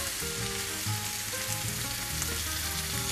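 Entrecote steak sizzling steadily in a hot pan, a dense, even frying crackle that stays close and loud for the whole stretch with no voices.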